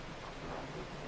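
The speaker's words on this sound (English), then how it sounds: "Oh, raining." Steady rain in the train driving game Train Sim World 4, a soft, even hiss of falling drops heard alone and fairly faint.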